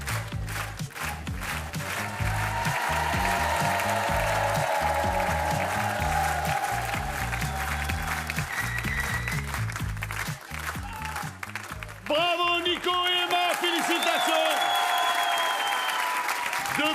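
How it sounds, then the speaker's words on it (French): Studio audience on a French television game show bursts into sustained, loud applause and cheering, steady for about twelve seconds before breaking off, followed by bright music stings and a fanfare. "Vraiment, applaudissements mérités."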